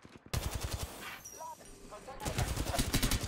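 Bursts of weapon fire in the battle-royale video game Apex Legends: rapid automatic shots crackle in two clusters, one at the start and a longer, louder string at the end, with a short pause of quieter game sounds between.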